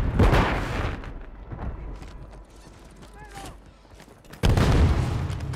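A grenade blast and gunfire in the Call of Duty video game: a loud burst of explosive noise at the start, a quieter stretch of mechanical clatter, then another heavy boom of gunfire that carries on to the end.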